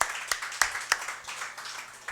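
A church congregation applauds during a Christian service, with a few sharp, distinct claps standing out over a soft, steady wash of clapping at moderate distance.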